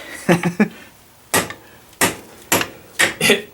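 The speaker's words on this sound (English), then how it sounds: "I'm going to give it a go with this hammer." Several sharp metallic hammer strikes on a Yamaha Timberwolf ATV starter motor, some in quick pairs and triples, separated by short pauses; loud and close, with no talking.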